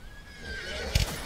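Horses in the Animal Battle Simulator video game give a short whinny followed by a brief burst of hoof and impact noise, all compressed into about a second over a steady game backdrop.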